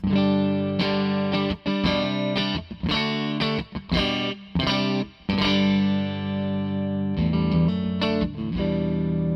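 Music Man electric guitar on the neck pickup playing chords and single notes through a Victory amp, with a warm saturated tone and amp reverb tail lingering under each phrase.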